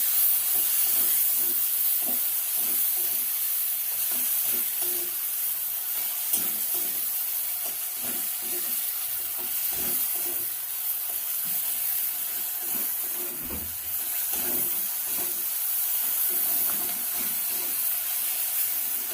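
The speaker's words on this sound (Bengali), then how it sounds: "টমেটোর সঙ্গে গোবিন্দভোগ চালটা ভালো করে ভেজে নেব" Gobindobhog rice frying with tomato in a pan, a soft continuous hiss and sizzle with gentle rhythmic stirring scrapes underneath, moderately quiet and steady for the whole stretch.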